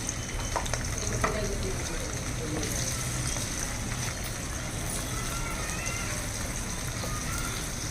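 Thinly sliced onions frying in oil in a pan, a continuous close sizzle with occasional stirring clinks, while a person talks over it.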